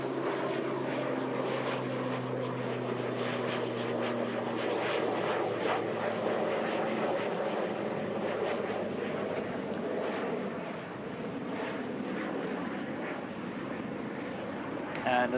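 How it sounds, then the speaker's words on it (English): Aircraft passing near Christchurch Airport, a continuous, loud engine rumble and roar that drones steadily throughout, with a person talking over it. "that is a plane going to a different destination other than Christchurch."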